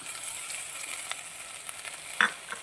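Vegetables fry in a pan for veg biryani, a soft steady sizzle with occasional light clicks and one sharper scrape of a spatula near the end.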